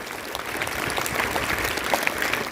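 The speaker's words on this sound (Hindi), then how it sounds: "तो इन सभी बच्चों के लिए एक बार जोरदार ताली लगा दें आप लोग।" An audience applauds for schoolchildren at an eco club and youth club gathering, steady dense clapping throughout, fairly loud with no talk over it.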